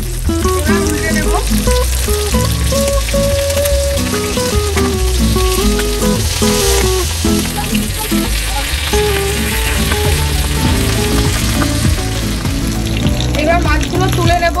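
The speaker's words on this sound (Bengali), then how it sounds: "এবার আমি এক এক করে মাছগুলো ভেজে নেব" Pabda fish sizzle loudly and steadily in hot mustard oil as they are turned, with constant crackle and occasional stirring noises under background music.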